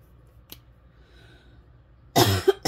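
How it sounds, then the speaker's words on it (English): A single wet, chesty cough bursts out near the end after a quiet stretch, close and loud, with a second short catch following it. "As I cough."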